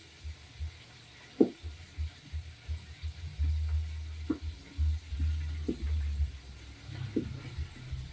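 Soft, steady sizzling of red snapper frying in hot oil for escabeche, with occasional faint pops and a low background hum; nobody speaks.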